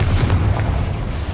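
A Confringo fire spell blast in the Hogwarts Legacy video game, heard as a loud, low, rumbling explosive boom that fills the short moment with no talk over it.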